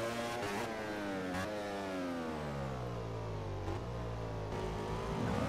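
A racing motorcycle engine in the MotoGP 15 video game during a wet race at Motegi, heard as a steady high-pitched whine that rises and falls through gear shifts. It plays fairly quietly with no talk.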